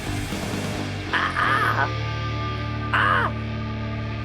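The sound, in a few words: voice imitating a cawing bird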